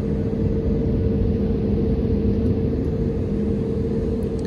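Steady low cabin rumble and engine hum inside an airliner slowly taxiing on the ground during a delayed departure, continuous and even throughout with no voices.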